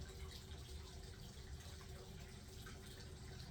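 Fingers rinsed under a steadily running tap, a soft continuous splash and trickle of water into a sink, fairly faint and constant throughout with no talking.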